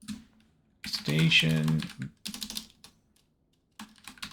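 Short bursts of key clicks on a computer keyboard, typed in quick runs between stretches of a person talking, with brief gaps of near silence.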